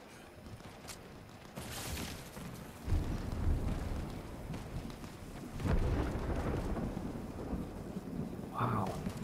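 Thunder from lightning strikes in the Fortnite battle royale game rumbles in several heavy bursts, faint at first and then booming and rolling, over a constant rain-like background hiss.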